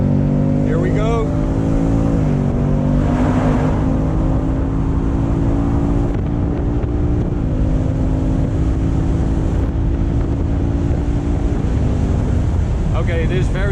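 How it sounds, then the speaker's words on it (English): Heavy, constant wind buffeting the open cabin of a 2018 Ford Mustang GT 5.0 convertible with the roof down at speed on the Autobahn, a loud roaring rush over the low drone of the engine and road. "Okay, it is very windy."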